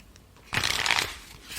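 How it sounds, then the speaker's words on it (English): Playing cards riffle-shuffled for a tabletop roleplaying game, one brisk burst of fluttering card slaps lasting about half a second, close and fairly loud, with quiet room tone before and after. "going to shuffle out some action cards here for Yakeem."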